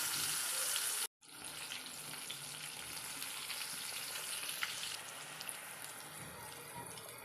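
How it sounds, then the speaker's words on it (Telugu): Steady, dense sizzle of brinjal slices frying in oil in a pan, continuous throughout with one brief silent gap near the start. "మిగిలిన బ్రింజల్స్ కూడా ఇలాగే ఫ్రై చేసుకోవాలి"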